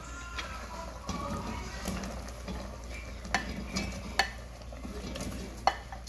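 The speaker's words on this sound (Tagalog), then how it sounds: "Haluin muna natin bago natin ubusin lahat." A utensil stirs prawns and corn in a simmering pan, with soft bubbling sizzle, scraping, and a few sharp metallic clinks against the pan spaced across the stretch; fairly quiet and close.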